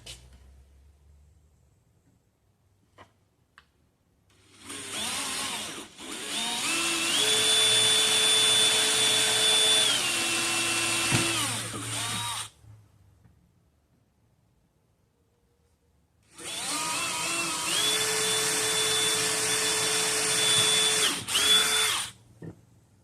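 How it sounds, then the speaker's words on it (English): A power drill with a pilot bit bores holes through the corners of a Lowrider skateboard deck in two loud, sustained whining bursts, each several seconds long, separated by a quiet pause. "I'm going to punch through all 8 corners with a pilot bit first."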